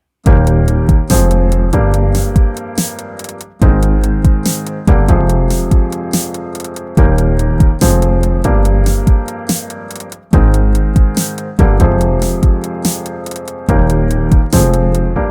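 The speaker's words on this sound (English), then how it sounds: "the kick having that syncopation gives it more like vibe or more interest" A syncopated kick drum pattern from a song locks with a deep, sustained bass line, looping in a steady groove with bright percussion ticking on top.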